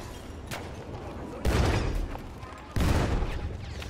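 Grenade explosion in the video game Battlefield 1, two sharp, loud blasts with rumbling tails about a second apart, preceded by a fainter thump amid ongoing battlefield noise.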